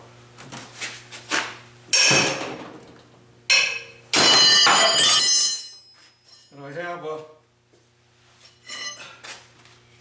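A hammer whacks the flywheel of a Wisconsin AENL engine held against a workbench. Several loud, close metallic bangs and clanks are separated by quieter rattling and handling noises on the bench.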